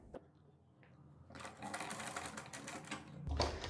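Suit fabric runs through a sewing machine in a steady, whirring stitch that starts after a quiet moment and speeds up toward the end, fairly faint and close by.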